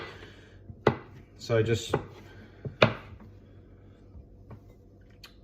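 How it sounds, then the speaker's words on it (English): A knife chops small pieces of copha on a board while making chocolate peppermint slice, giving a few irregular sharp knocks and scraping cuts with a brief spoken phrase between them. "finish chopping up these little bits of copha"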